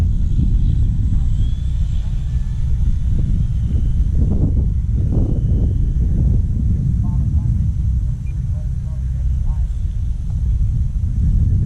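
Constant low rumbling engine drone of a Gee Bee model airplane flying overhead on a windy day, with wind buffeting, steady and fairly loud, with a few faint muffled voices briefly rising over it.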